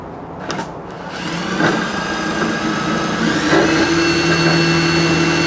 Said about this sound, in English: I'm about to drill, so push extra hard